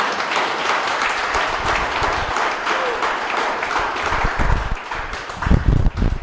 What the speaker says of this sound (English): so when you clap, clap with a lot of energy